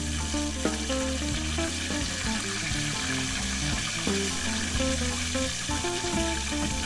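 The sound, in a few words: mozzarella empanadas frying in oil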